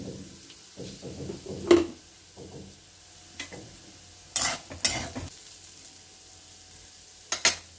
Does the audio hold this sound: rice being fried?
yes